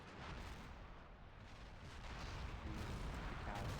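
Distant artillery fire in a realistic war video game, a dense, muffled rumbling barrage that swells slightly louder over a few seconds.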